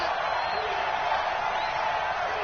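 Steady crowd roar inside a domed stadium during a football game, a constant wash of noise with no breaks, heard from a distance.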